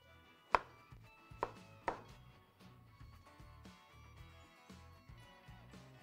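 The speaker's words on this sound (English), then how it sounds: "cut this part here so the eggplant will lie nice and straight while we're cutting" A kitchen knife slices through an eggplant on a cutting board, with three sharp cuts early on followed by softer, irregular knocks and handling noises, close and quiet, with no talking.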